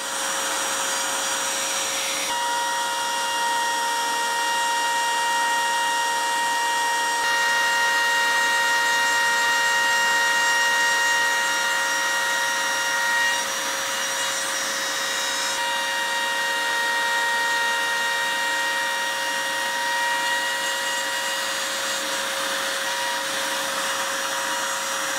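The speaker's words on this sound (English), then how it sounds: "To get into tight spots, lift one side of the router and gently touch the spot with the tip of the bit." Wood router fitted with a profile bit outlining raised carved letters on a star carving, a steady high-pitched whine with shifting tones as the bit cuts, continuous and close for the whole stretch with no talk.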